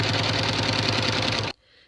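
Sewing machine stitching fabric while it is fed along under the presser foot to gather it, a steady fast mechanical whirr and rattle, close and loud, stopping abruptly near the end.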